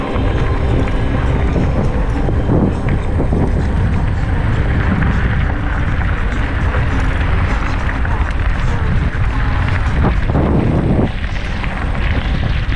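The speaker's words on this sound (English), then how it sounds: "A little windy though." Loud, steady wind buffeting the microphone in a dense low roar throughout, with gusts rising and falling, while bike riding in Wind Cave National Park; no voices come through.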